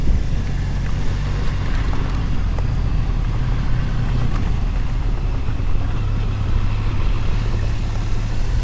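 Several off-road motorcycles lined up with engines idling, a steady low rumble filling the scene at a constant level with no talk over it.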